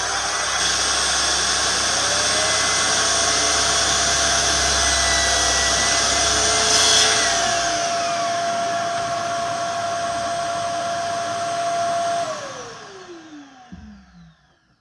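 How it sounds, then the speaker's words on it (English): A Dewalt DWS774 mitre saw cuts through pine: a loud, steady high-pitched motor whine with a dust hose attached, holding for about twelve seconds before spinning down and fading out. "So that's the first cut I've made with it"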